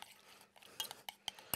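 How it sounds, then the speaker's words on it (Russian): A spoon scrapes and clinks against a pot while lentils with a five-pepper blend are stirred, giving soft, irregular taps and a few brighter clinks, close and quiet with no talking. "Все хорошенько перемешиваю."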